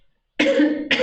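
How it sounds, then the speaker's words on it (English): A person coughs twice in quick succession, close and fairly loud, the first cough harsh and drawn out and the second short and sharp. "I'm sorry, I'm coughing."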